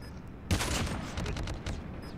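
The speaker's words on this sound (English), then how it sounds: "Where am I getting shot from?" Burst of rapid gunfire aimed at the player in Call of Duty Mobile, a sharp onset followed by a dense volley of shots and a few trailing pops, fairly loud and close with no talk.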